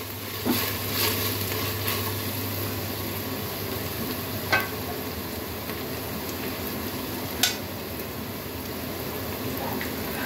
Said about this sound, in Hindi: चम्मच अदरक लहसुन का पेस्ट। अब इसे भी अच्छे से भून लेंगे ताकि इसका जो कच्चापन है वो खत्म हो जाए।